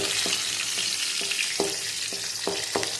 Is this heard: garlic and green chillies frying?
yes